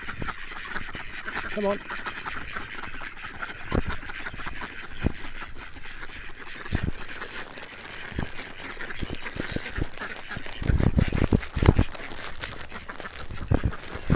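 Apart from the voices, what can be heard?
ducks quacking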